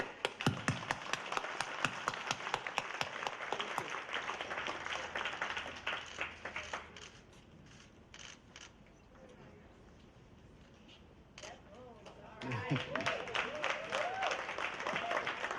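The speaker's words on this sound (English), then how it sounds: "So let's give a big applaud for the Loop." A crowd applauds at the grand opening of the Loop at Mattapan Station, with loud sustained clapping and cheering that fades to a quieter murmur midway, then swells again into renewed applause near the end.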